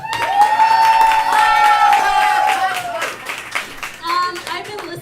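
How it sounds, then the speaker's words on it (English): A comedy club audience claps and cheers in a loud, steady burst, with a sustained tonal voice or whoop held above the applause before the clapping thins out and scattered sounds take over. "big round of applause"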